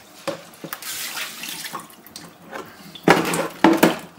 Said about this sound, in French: On va mettre un peu d'eau au fond.